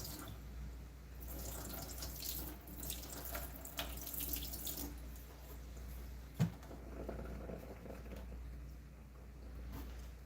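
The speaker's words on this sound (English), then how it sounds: "We want to get it rinsed off in some water" Tap water running steadily over a Mora knife being rinsed after a mustard forced patina, a continuous close splashing rush with a brief knock partway through.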